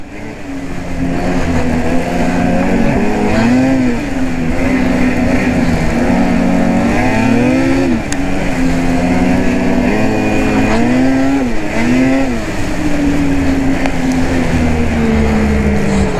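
A 2020 Ski-Doo Backcountry XRS snowmobile being ridden, its engine loud and close, droning steadily with repeated rises and falls in pitch as the throttle is worked.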